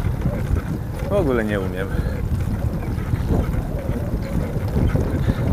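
Steady wind rumbling across the microphone while riding a bicycle on a road through a small French town, a constant low buffeting that runs the whole time under a man's speech.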